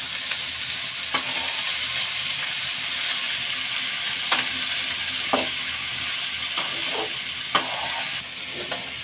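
A radish and radish-greens stir-fry is stirred in a pan over a steady background hiss of sizzling. Occasional soft scrapes and taps of the utensil come through at an unhurried pace.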